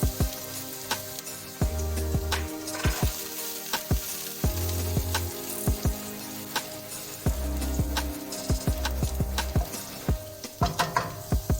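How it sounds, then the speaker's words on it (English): Garlic sizzling in about one and a half tablespoons of hot oil in a pan, a steady frying hiss punctuated by repeated sharp taps and scrapes of a utensil against the pan. "I add in my 1 tablespoon of garlic"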